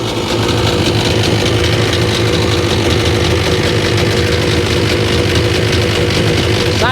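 A Sea-Doo RFI 787 jet ski engine running on a hose outdoors idles roughly with oil and smoke coming out, a loud, close, continuous uneven rumble that stays constant throughout.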